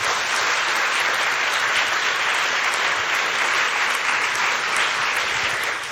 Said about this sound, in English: Please welcome all the panelists with a round of applause.